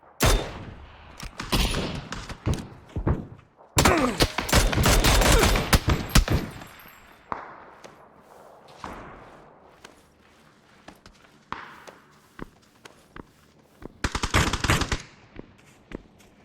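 Gunfire in PlayerUnknown's Battlegrounds: scattered single shots, then a long, dense automatic burst, later more sporadic shots and a short closing volley, with faint footsteps between.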